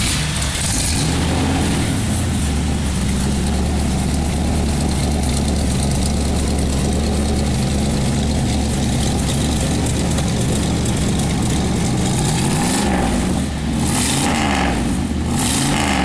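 A 1978 Dodge Warlock pickup's V8 idles loudly and close by, a heavy continuous low rumble with slight rises near the end.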